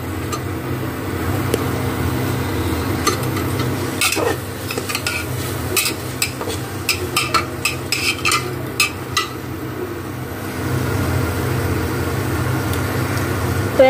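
Bathua saag is stirred in a pan to dry it, with a spoon scraping and tapping in quick irregular strokes over a low, steady background hum.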